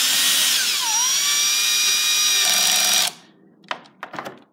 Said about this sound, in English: Take your drill.